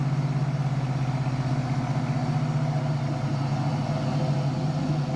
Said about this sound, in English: there's me shifting to second gear there